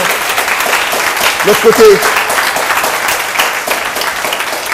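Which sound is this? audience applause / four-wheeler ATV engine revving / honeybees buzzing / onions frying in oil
audience applause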